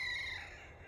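A rooster crows once, loud and near, its call trailing off over a low background hum.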